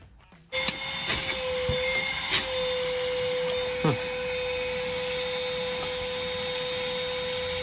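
A Ryobi 18V ONE+ shop vac starts up and runs with a steady whining drone while sucking up sawdust, loud and close, with a few clunks and rattles from the hose over the continuous motor.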